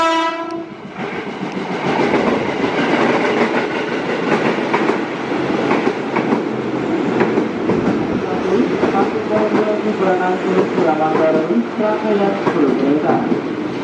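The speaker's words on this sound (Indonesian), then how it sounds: "jalur 2 akan melintas kereta api Parahyangan SAO 32B" A Parahyangan passenger train passes through a station, opening with a horn blast before a loud, sustained rumble and wheel clatter that holds steady throughout, with voices audible over it.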